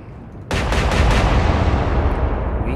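Naval gunfire in the video game Atlantic Fleet: a loud, sudden salvo with several quick cracks of heavy guns, then a sustained booming rumble that slowly fades.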